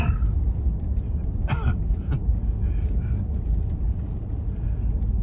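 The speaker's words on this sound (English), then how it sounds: "Let me clear my throat." A man clears his throat with a short, rough burst, close to the microphone, over a steady low rumble of background noise.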